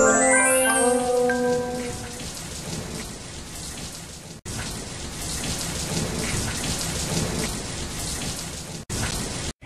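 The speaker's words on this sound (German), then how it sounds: "Die Wolke macht den Regen." Steady heavy rain pours down without pause, with a deep rumble of thunder beneath it and a couple of abrupt cuts in the sound.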